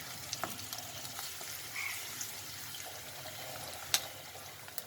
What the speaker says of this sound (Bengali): হালকা হালকা ভাবে ভাজবে